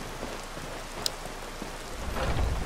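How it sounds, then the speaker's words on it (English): Steady rain pours in Skyrim, a continuous soft hiss with a brief sharp tick around the middle and a low rumble swelling near the end. "raining."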